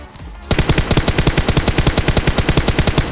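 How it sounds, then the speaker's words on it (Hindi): Rapid automatic gunfire in the PUBG Mobile video game starts abruptly after a short quiet moment, then continues as a loud, steady stream of evenly spaced shots close by, with no talking over it. "वो ये लोग अपने में फायर कर रहे हैं"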